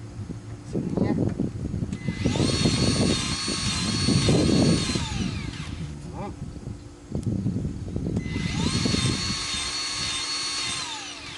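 A Milwaukee M12 cordless grease gun pumps grease into fittings on a Kubota B2650 tractor loader, delivering two long whining motor bursts of several seconds each with a pause between them, loud and close, while a person talks over the work.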